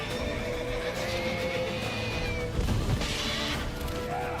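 The horse Roach neighs and snorts in The Witcher 3, a whinny over ambient game sound, with a louder thump-like burst midway, fairly close.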